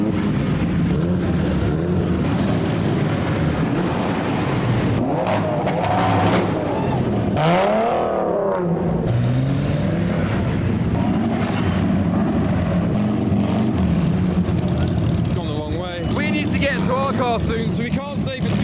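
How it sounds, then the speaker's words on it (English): Cars rolling out of an indoor car show venue, including an RWB Porsche, with engines rumbling and revving loudly and continuously in an enclosed space, mixed with crowd chatter and people talking. "There's something about cars waiting to leave a show in a venue"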